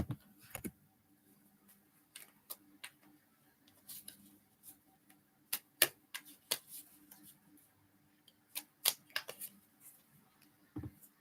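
Tarot cards being shuffled in short irregular bursts of soft riffling and tapping, separated by quiet gaps, close by.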